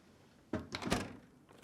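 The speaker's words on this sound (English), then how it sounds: "push it back into the dishwasher and close the door." Lower rack of a Whirlpool dishwasher rolled back in and the door shut, a few quiet thumps and clunks in quick succession.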